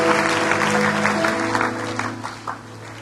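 A church congregation claps to acclaim the Lord, a steady wash of applause over sustained music or singing, fairly loud and thinning toward the end.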